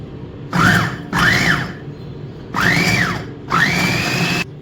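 A kitchen blender pulses through chimichurri ingredients in four short bursts, each motor whine rising and falling in pitch, loud and close, with brief quiet gaps between pulses.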